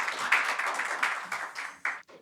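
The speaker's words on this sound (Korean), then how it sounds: "박수로 환영해 주십시오." Applause from an audience at a civic forum on Korea–US defense cost sharing, a brief burst of clapping that swells and then breaks off abruptly near the end, fairly quiet and close.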